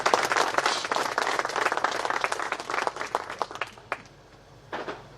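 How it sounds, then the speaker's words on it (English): An audience at an outdoor handing-over ceremony applauds in a dense burst of clapping that thins to scattered claps and fades out near the end. "We really can give her another hand of applause."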